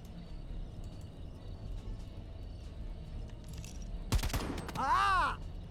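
Gunfire in the tactical video game Jagged Alliance: Rage! comes as a sudden loud burst of shots near the end, following a stretch of low ambient game noise, with a shrill warbling effect trailing after it.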